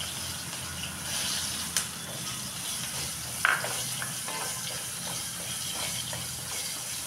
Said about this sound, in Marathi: ह्या कैरीच्या फोडी घालायच्या आहेत.